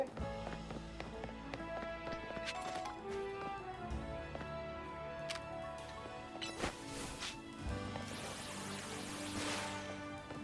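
Horses clip-clop in the video game Pokémon Legends Z-A, a steady run of soft hoof taps under continuous layered game music and ambience, faint rather than prominent.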